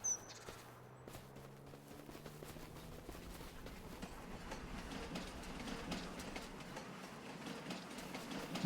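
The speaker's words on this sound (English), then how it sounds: "Wonder if I can keep up with the train." In Farming Simulator 25 on the Lone Star Plains, Texas map, a train rumbles past at a steady pace with continuous clickety-clack from wheels on rail joints and a low drone, heard alone with no talk.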